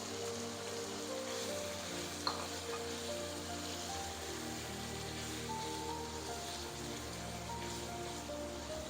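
Tomatoes frying with beef keema in a karahi, a soft continuous hiss of sizzling oil, fairly faint and steady throughout with one brief tap of a utensil, no voices.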